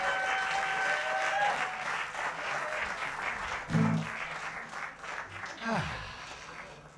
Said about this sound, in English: That's a soothing, applause-y sound.